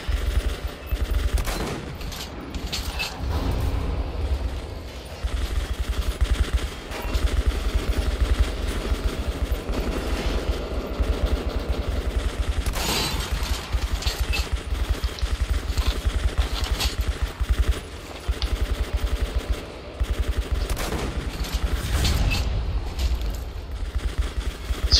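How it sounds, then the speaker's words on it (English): Sustained bursts of automatic machine gun fire in the Metro: Last Light first-person shooter, dense rattling volleys with a few sharp louder cracks, heavy low rumble running continuously underneath. "Is that like an automatic machine gun?"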